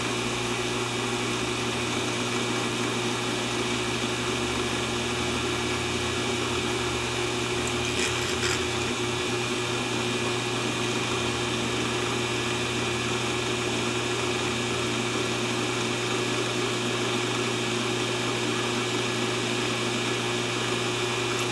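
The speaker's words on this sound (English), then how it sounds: "I like to use a nice smaller and sharper drill bit to go ahead and do some pilot holes." Small, sharp drill bit boring pilot holes in a Kydex sheath, a continuous high whine with a steady hum underneath, running evenly for over twenty seconds with a brief scratchy flutter near the middle and no talking.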